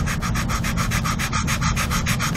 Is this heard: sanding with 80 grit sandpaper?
yes